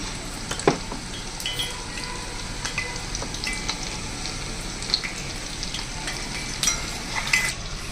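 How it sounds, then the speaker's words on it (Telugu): Oil heating in a pan for prawn curry, a soft continuous crackle with scattered sharp pops and ticks, close and moderate, no talking. "ఒక నాలుగైదు గరిటలు ఆయిల్ వేస్తున్నానండి"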